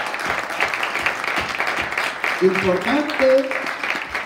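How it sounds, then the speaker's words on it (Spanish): A church congregation claps in applause during a sermon, a dense patter of hands with voices and a short spoken word mixed in, fairly close and lively. "¿Por qué no dan una ofrenda de palmas al Señor?"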